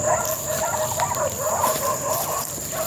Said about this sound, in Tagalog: Naingay yung aso nila kwan dyan.